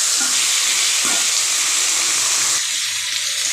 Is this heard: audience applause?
no